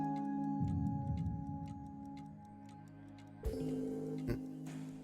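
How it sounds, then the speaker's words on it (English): Ticking clockwork of cogs and springs from behind a door in the Trails of Cold Steel video game, a steady rhythmic tick over a droning music bed, with a sudden louder clunk near the end. "If you listen, you can hear the sounds of cogs and springs coming from it too."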